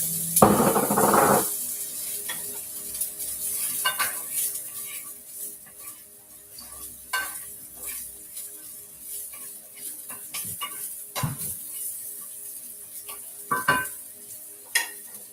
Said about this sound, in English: Onions, rice, saute.